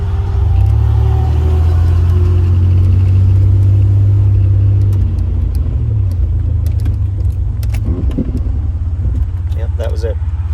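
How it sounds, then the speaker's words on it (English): A 2000 Chevrolet Blazer ZR2 truck engine accelerates with a loud, close, deep rumble that shifts in pitch midway, while a lawnmower and passing traffic sound in the background. "I will accelerate now, and hopefully you can still hear it over the lawnmower and the traffic."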